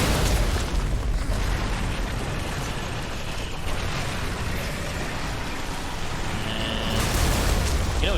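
A dense, sustained rumbling blast from an explosion in the video game Darksiders, loud and continuous for several seconds with crackling debris-like noise and a brief sharper burst near the end.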